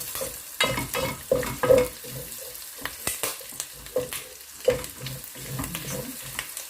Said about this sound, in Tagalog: Bisa na natin ang luya.